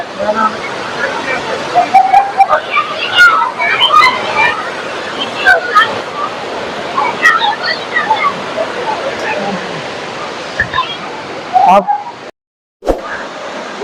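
Water pours steadily over Kallanai, the ancient stone dam, in a constant rushing roar with splashes, while people's voices and outdoor activity sound faintly throughout and the sound briefly drops out near the end.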